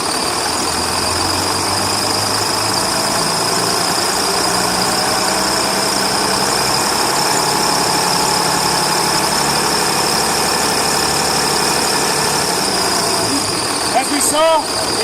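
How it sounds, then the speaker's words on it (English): A car engine held at roughly 1500 RPM during a charging system check, giving a steady, continuous mechanical drone with no clear rise in pitch and a few faint clicks near the end. "I'm going to give it up to about 1500 RPM for a few seconds"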